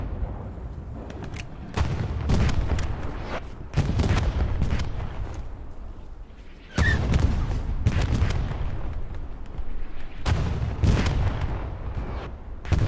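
Gunfire in a team-based online shooter match on the Omaha map, loud sustained bursts of rifle and artillery-like blasts coming in heavy waves with brief lulls between, no talking.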